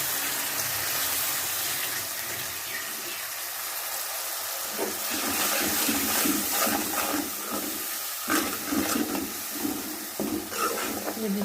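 Water is poured into a cooking pan holding a mixed vegetable dish with red chilies, making a steady hiss and gush that turns into bubbling, sputtering sizzles close by.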